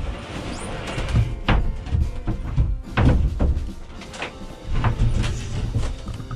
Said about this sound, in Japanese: 今ベニヤを引き出してきたんですが